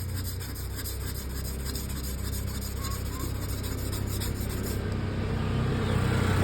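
A Stanley hand plane blade is worked back and forth on a sharpening stone, giving a steady, continuous gritty rubbing that grows slightly louder toward the end.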